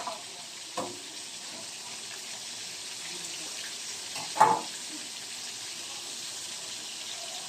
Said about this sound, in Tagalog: nag-fry na rin tayo ng ripe banana para sa ating side